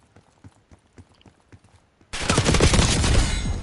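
In a shooter video game, a row of faint, evenly spaced ticks gives way to a sudden loud, sustained burst of gunfire that carries on to the end.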